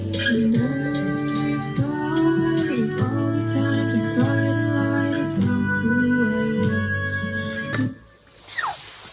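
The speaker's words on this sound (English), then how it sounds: "I also have this little flute solo here that I'm not sure if I'm going to keep." A melodic flute line plays over a full, layered music backing, holding notes and gliding between them, before the music cuts off near the end.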